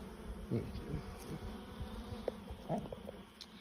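Honeybees buzz steadily in an open hive during an inspection, a close, dense hum throughout with a few faint rustles and knocks.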